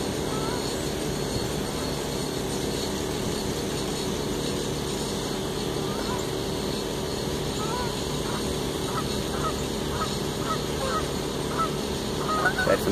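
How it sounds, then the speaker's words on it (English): Canada geese honk over a loud, steady outdoor noise bed. Their calls come as a run of repeated honks, louder in the second half. "Got some Canadian geese coming in."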